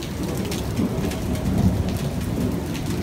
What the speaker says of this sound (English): and let it rain.